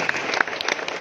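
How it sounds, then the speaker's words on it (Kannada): A crowd at an outdoor speech gathering applauds loudly, dense continuous clapping without a break. "ಜೋರಾಗಿ ಚಪ್ಪಾಳೆ ಹೊಡಿ ಭಾಗದವ್ರು."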